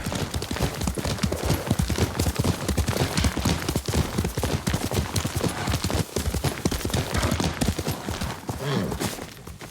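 Hooves of a horse in the samurai action game Ghost of Tsushima clip-clop in a steady, continuous rhythm, close and fairly loud, with no talk over them.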